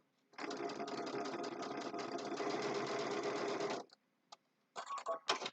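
A sewing machine stitches fabric for half hexagon patchwork in one steady, close, rapid run of about three and a half seconds, followed by a few short bursts.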